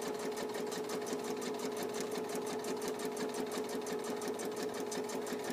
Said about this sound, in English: and I'm going to keep sewing.